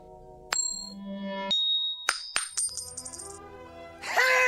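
A quarter flipped and landing in an old-time radio drama, a sharp metallic ring followed by a series of bright clinks and rattles as it settles, close and clear with no talk.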